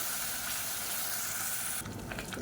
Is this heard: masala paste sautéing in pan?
yes